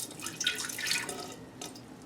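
Homemade sweet iced tea with a little sugar left at the bottom being poured back into its container, a faint, brief splashing and trickling of liquid close by.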